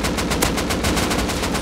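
Rapid automatic gunfire in the video game Rust, a loud, dense, steady stream of shots rattling without pause, close up and alone.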